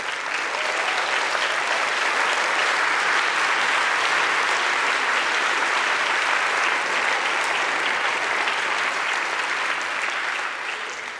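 A large audience applauding at a town hall talk, a dense, steady roar of many hands clapping that holds for about ten seconds before tapering slightly at the end, with no voices over it.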